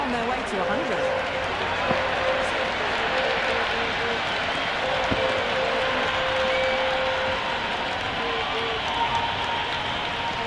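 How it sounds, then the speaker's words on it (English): Crowd noise from a cricket stadium in an IPL video game, a raucous crowd at an eliminator match. A steady, dense roar of cheering and chatter holds at a constant level throughout, with a few faint tonal sounds rising above it. "The crowd are really getting quite raucous."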